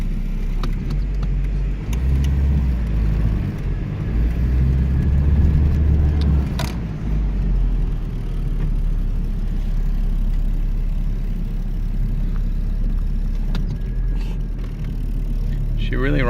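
A 1983 Dodge 400 Coupe with a 5-speed manual cruising along, a steady loud engine drone and road rumble inside the cabin with low gear-related changes in tone, faint voices underneath.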